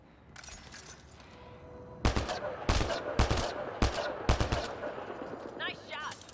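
Gunfire in Mass Effect Andromeda, several sharp loud bursts of rapid shots spaced over a few seconds, close and punchy, with faint game sounds between.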